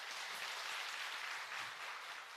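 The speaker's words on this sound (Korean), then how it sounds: "박수 한번 쳐주세요" A church congregation applauding together during a Korean sermon, steady dense clapping that fills the whole moment at moderate level with no talk over it.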